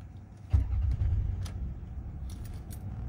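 A 2001 Lexus ES300 sedan, cold, started up: a sharp jolt as the engine cranks and catches, then a steady low idle rumble with a few faint clicks and jingles on top, no talking.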